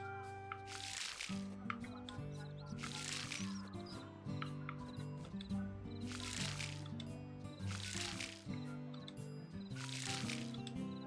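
Watering crops in the Harvest Moon video game produces repeated soft splashing bursts at a regular pace over a looping melodic game soundtrack, with no talking.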